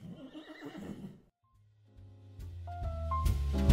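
A horse whinnies loudly and close, a long shrill neigh rising toward the end after a brief pause, with no talking over it.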